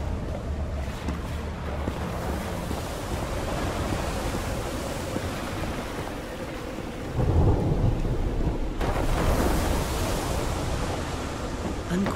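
A thunderstorm rumbles over crashing ocean waves in the Call of the Sea video game, a steady dense roar of rain and surf that swells with a heavy, close thunder burst partway through, with no voices.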